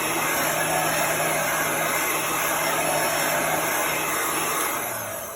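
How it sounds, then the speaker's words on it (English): Industrial Uline heat gun blowing steadily on a chalk-decorated craft board, a loud continuous fan-and-air roar with a high whine that holds for several seconds before easing off slightly at the end, no talk. "So this is an industrial heat gun."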